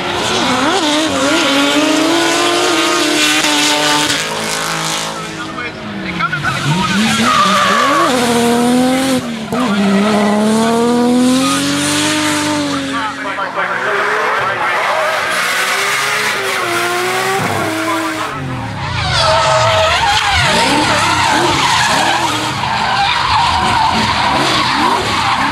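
A drift car on the Hampton Downs track in New Zealand screeches through long tire skids, the engine revving and wailing under the squeal as the car slides through corners, loud and close.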